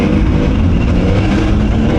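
Motorcycle engine droning steadily while riding through the streets of Naples, a loud, continuous rumble with wind buffeting, close and unbroken throughout, no talking.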